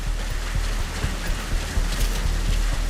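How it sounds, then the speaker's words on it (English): Steady rain falling in the game Metal Gear Solid V at Mother Base, a continuous broadband hiss with scattered low patters, moderately loud and unbroken. "it looks like it's started to rain"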